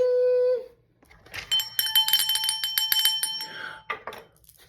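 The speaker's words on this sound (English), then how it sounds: "Bell." A bright bell tone rings briefly, followed by a rapid cluster of tinkling, chiming electronic bell sounds, played as a sound effect with no talking over it.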